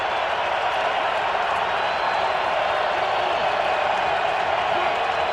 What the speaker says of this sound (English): Crowd is in the game.